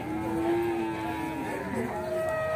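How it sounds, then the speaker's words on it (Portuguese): Cattle at a livestock fair in Capoeiras, Pernambuco, held in corrals of mostly cull cows: a long drawn-out moo and further lowing from the herd over a steady crowd murmur. "Olha, pessoal, ali é a feira de vacas"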